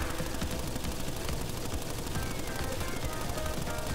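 Rapid machine gun fire from a maniac's weapon in the Crash Bandicoot N. Sane Trilogy game: a dense, continuous rattle of shots holding steady at close range, with busy game effects layered underneath and no talk.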